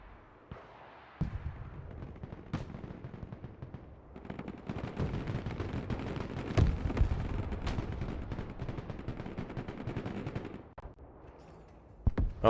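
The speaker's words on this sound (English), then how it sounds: "Oh, there's the mortars again." Mortar and gunfire in the video game Broken Arrow, a dense stretch of rumbling blasts and rattling shots swelling into a sustained barrage, with sharp distant booms at the start and end.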